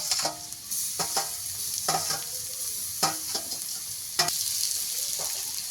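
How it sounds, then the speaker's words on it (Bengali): Crushed garlic and onion frying together in a pan, a constant bright sizzle broken by rhythmic scraping stirs every second or so, close and loud, with no speech. "রসুন আর পেঁয়াজ একসঙ্গে ভালো করে লাল লাল করে ভাজবো"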